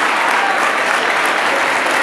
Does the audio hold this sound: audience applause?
yes